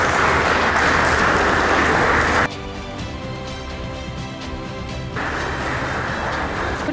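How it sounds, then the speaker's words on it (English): Applause from an audience welcoming dignitaries onto the stage at a sports hackathon torch ceremony: a dense, loud wash of clapping that drops away for a few seconds midway, then swells back up. "Can we hear a big round of applause and let's welcome all the dignitaries to kindly join us on stage."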